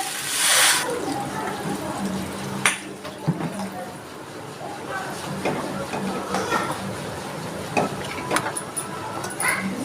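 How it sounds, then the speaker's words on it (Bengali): Water pours into a hot pan of jackfruit and crab curry, giving a short hissing splash that settles into bubbling and stirring sounds, with a voice talking over it. "জল ওই জল আমি এবার জল দিয়ে দিচ্ছি"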